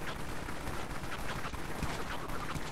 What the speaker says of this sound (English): Because there's like 50 people shooting